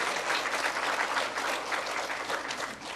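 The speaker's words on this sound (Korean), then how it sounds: "여러분 찬송을 하고 나면 하나님께 영광의 박수 올려드리십시다." A church congregation at a Wednesday testimony worship service breaks into steady, dense applause after singing a hymn, a continuous wash of many hands clapping throughout with no voices over it.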